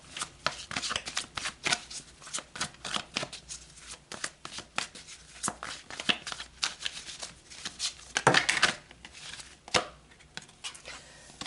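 A deck of tarot cards is shuffled up close, giving steady, soft papery riffles and slaps that run for several seconds without talk.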